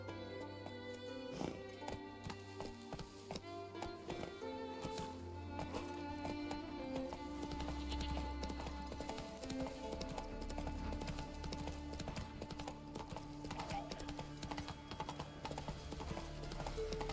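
Horse hooves clip-clopping at a steady pace, heard continuously under a busy, dense mix of music and other sound, moderately loud throughout.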